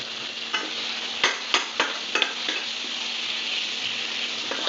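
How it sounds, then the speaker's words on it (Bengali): Spice paste and tomato frying and being stirred in hot oil for a jackfruit curry, with a steady loud sizzle broken by a few sharp scraping strokes of the spoon. "ওই মশলা এবং টমেটো ভালো করে কষাতে হবে"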